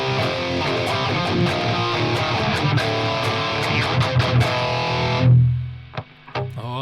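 Heavy distorted electric guitar played through VHT Pittbull 100CL and ENGL Savage SE amplifiers in a stereo setup, loud dense chugging riffs that cut off abruptly near the end, leaving a few faint scrapes and taps.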